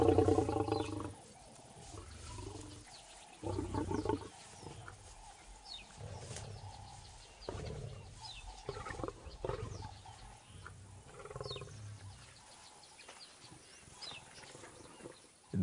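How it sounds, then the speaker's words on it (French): A lion charges the bars of its enclosure and gives out low growls and rough grunts in short bursts amid background animal and bird noise, fairly faint with no talking. "Ailleurs, un lion charge les grilles de son enclos."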